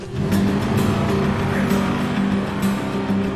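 A car drives through a Wolfenstein video game cutscene with a loud, steady engine drone and road rumble throughout, broken by a few brief sharp clatters.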